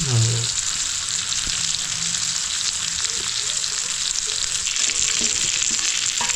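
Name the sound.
croaker (dhoma) fish frying in pan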